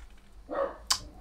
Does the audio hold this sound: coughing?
no